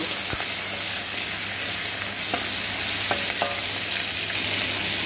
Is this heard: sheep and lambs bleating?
no